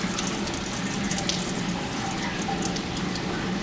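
Steady running tap water splashes into a lab sink while aquarium feeding containers are rinsed out, a continuous close, fairly loud wash with no talking.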